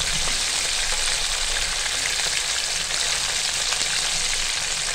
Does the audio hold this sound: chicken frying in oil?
yes